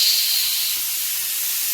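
A steady, loud hiss of steam escaping from a pressure cooker runs through the whole clip, high and airy without pause, with no voices.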